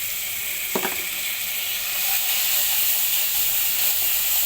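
Small shrimp fry with spices in a hot pan, giving a steady, loud sizzle and hiss close by, with a brief clink of stirring early on.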